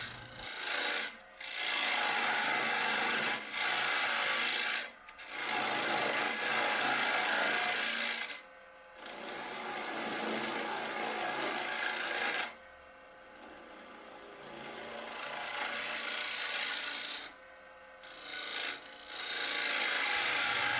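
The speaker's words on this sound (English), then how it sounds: "To get the rest of the bottom, I'm going to use this scraper." A heavy French curve scraper cuts the bottom of a spalted maple bowl on a lathe, giving a loud, steady rasping scrape in long passes broken by short pauses.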